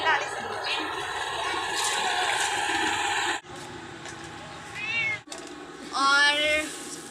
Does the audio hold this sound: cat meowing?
yes